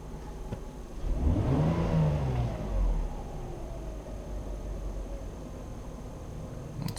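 Mercedes M104 engine idling steadily after its throttle body and mass air flow meter wiring were repaired, heard from inside the car on a cold morning, a smooth continuous hum with one brief rise in pitch early on.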